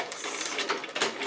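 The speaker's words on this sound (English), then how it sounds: "Put your sewing machine on straight stitch" A home sewing machine running a straight stitch along the point of a stuffed cat toy, a steady dense mechanical whir that holds fairly level for the whole short stretch with small rhythmic surges.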